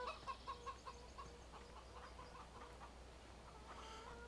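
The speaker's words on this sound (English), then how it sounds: "We pass our chickens." Chickens in the Farming Simulator 17 video game cluck in a quick series of faint, rhythmic clucks at the start, followed by scattered softer calls over a low steady hum.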